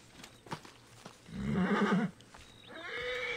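A horse in Assassin's Creed Origins gives a short, close whinny with a wavering pitch, framed by soft clip-clop hoofsteps and faint ambient sounds before and after.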